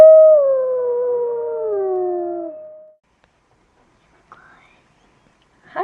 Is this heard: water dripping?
no